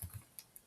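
A few light keystrokes on a computer keyboard during coding work, soft and sparse clicks close by, in a quiet room.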